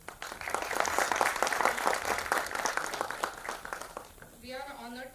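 Applause at an inauguration ceremony for a power professionals' society, where a hall audience claps for distinguished guests. Dense clapping fills about four seconds, then fades as a voice starts speaking near the end.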